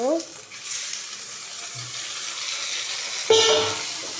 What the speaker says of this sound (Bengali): চিকেনটা দিয়ে এবার ভাজতে থাকবো।